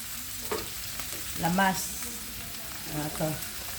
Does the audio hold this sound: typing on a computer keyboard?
no